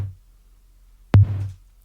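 A single snare drum hit layered with a 100 Hz tone, followed by a short spreading nonlinear reverb tail that cuts off abruptly, close and loud with no other sound.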